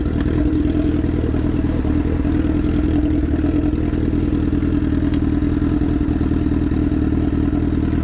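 Honda CBR 1000RR motorcycle riding with its exhaust broken off on the road, a loud, raw, unmuffled engine drone with a throbbing low rumble and rattling clatter that holds steady throughout.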